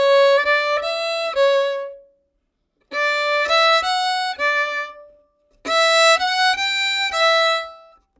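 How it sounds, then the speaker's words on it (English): Solo violin plays three short phrases of four notes each in a long-short rhythm, bright and close, with clear pauses between the phrases. "I'm going to play a long note and then a short note."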